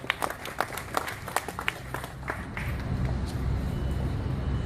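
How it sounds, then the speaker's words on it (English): Scattered claps from a small audience at a Jacksonville pedestrian and bicycle safety campaign kickoff, honoring Planning Department staff; sparse, uneven hand claps in the first half, fading into a low rumbling background. "Let's give them a round of applause"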